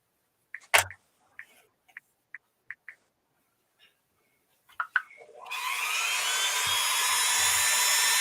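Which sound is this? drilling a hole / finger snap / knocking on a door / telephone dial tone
drilling a hole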